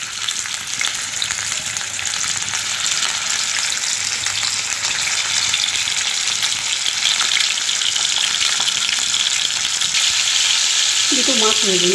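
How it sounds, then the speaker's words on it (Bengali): Two fish sizzle steadily in hot oil in a pan in a Bengali home kitchen, a constant close hiss with faint stirring; a brief voice enters at the very end. "দুটো মাছ ভেজে নিচ্ছি, মাছগুলো দিয়ে দিয়েছি, উল্টে পাল্টে এগুলো ভাজা হোক আস্তে আস্তে।"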